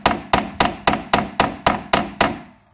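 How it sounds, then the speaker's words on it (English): A hammer taps metal through the hole of a window crank, nine sharp, evenly spaced strikes ringing close up, each decaying quickly before the next. "Next thing I'm going to do is take a hammer and just start tapping that through."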